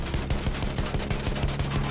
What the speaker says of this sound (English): I got a sniper shooting at me